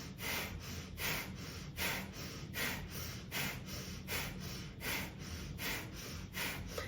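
Slow, deep breaths during a somatic movement exercise, each long airy inhale and exhale rising and falling in a steady rhythm, close and fairly loud with no talking.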